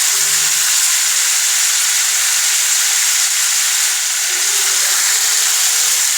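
A pot of raw mango pickle sweetened with batasa cooks while being stirred, giving a constant, fairly loud steamy hiss and sizzle with little variation throughout.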